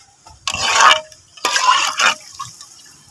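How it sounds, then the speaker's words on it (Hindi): About a litre of water being poured into a pot of dal masala in a pressure cooker, heard as two splashing, gurgling pours of roughly half a second each with a short pause between them, close and fairly loud, with no talking. "1 लीटर के बराबर मैंने इसमें पानी ऐड कर दिया है।"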